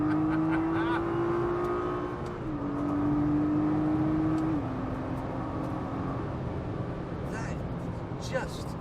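A car launching hard with full throttle from a standstill, its engine droning loud and steady with a rising tone that steps up through a gear change, while someone talks over it.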